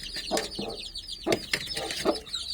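A broody Indian Runner-type Gurk hen clucks in short, repeated bursts nearby to her chicks, with softer chirping and background bird noise, no voices.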